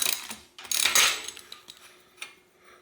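Ratchet tool loosening a reverse-threaded bottom bracket cup on a bike, a few quick clicking ratchet strokes and metallic clanks close by, separated by pauses, with no talk.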